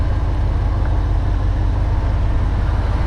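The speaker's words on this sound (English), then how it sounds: "You turn it with a key here, you start it. Starts right up." A 1939 Ford Woody Wagon with a 350 LT-1 V8 and fuel injection idles steadily right after starting, a loud, close, even low rumble without talk.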